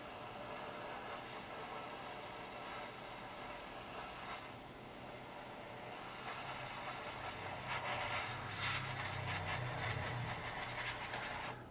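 An airbrush blowing plain air to dry paint on a 1/48 scale Revell Junkers Ju 88 A-4 model kit, heard as a steady, faint broadband hiss that carries on throughout, with a slightly stronger rushing stretch toward the end.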